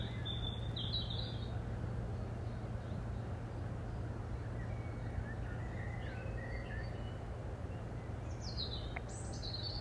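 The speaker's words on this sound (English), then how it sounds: "the bird song is still very much the primary sound that you can hear" Birdsong in a nature reserve: scattered chirps and short calls, some near and some farther off, over a steady low hum of distant industry that runs throughout.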